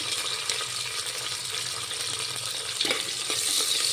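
Onions and curry leaves frying for chicken biryani make a continuous close sizzle with a few stirring scrapes, growing louder and brighter near the end, without speech.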